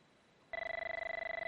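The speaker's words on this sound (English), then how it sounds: "I have my incoming call." Telephone rings for an incoming call, a steady electronic warbling tone that starts abruptly after a moment of quiet room hiss and pulses rapidly, clear and alone.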